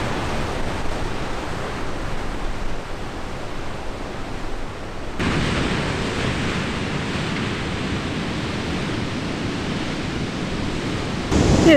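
Sea waves roll steadily onto the Portuguese coast, a broad continuous surf roar with wind buffeting the microphone and no voices.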